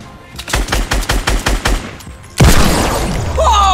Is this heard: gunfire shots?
yes